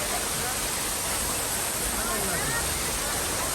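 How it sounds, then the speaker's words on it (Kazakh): At the Shar Shara waterfall in Surxondaryo, Uzbekistan, water pours out of holes in the mountainside with a loud, constant, close roar that fills the whole span without a break. "анау таудың тесіктерінен ағып жатқан су бар"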